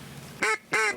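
Two loud, close duck quacks sound in quick succession during a snowy Nebraska duck hunt, each short and nasal, with a brief gap between them.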